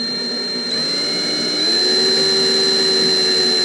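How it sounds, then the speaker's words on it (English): A power drill with a 1/8-inch bit whines steadily at high speed boring a pilot hole for a Harley saddlebag hinge cover, a continuous loud motor tone that rises slightly in pitch partway through. "We need to drill a couple pilot holes"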